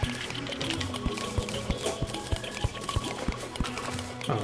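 Water sloshing and trickling in Terraria, a steady liquid wash under rhythmic low thumps of game effects, moderately loud throughout.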